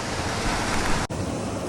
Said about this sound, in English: look at this waterfall right here